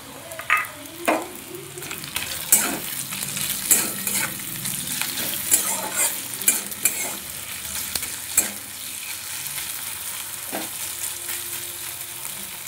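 Fish with onion and green chilies fries in a pan and is stirred for fish cutlets, giving a steady sizzle broken by repeated close scraping and clattering stirs.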